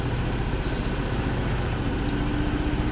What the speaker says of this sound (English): and idle the engine